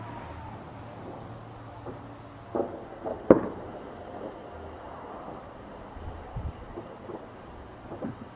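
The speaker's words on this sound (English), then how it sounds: "Lots of explosions going on." New Year's fireworks go off in nearby backyards at night, a few faint distant pops and one sharper bang, spread over a low wind-like rumble.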